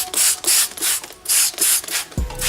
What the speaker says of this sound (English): here's the 1000 grit sandpaper right here.